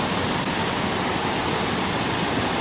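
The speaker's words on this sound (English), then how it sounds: "You can see the waterfall there." Berlin Falls in South Africa roars as a steady, dense wash of falling water, loud and unbroken, heard from close by with no voices.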